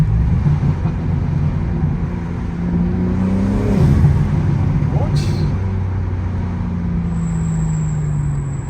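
A manual BMW G80 M3 fitted with titanium front-mount intakes revs up, its deep engine note rising and falling through a steady, loud drone, with people talking nearby.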